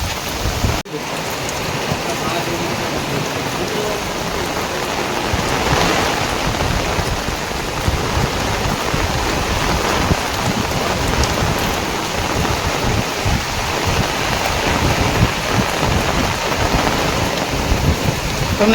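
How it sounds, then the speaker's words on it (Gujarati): A heavy rain downpour pours steadily at Songadh Fort, a dense, loud, continuous hiss of rain beating on surfaces that holds for the whole stretch, with one sharp knock near the start and no speech. "ધોધમાર વરસાદ વરસી રહ્યો"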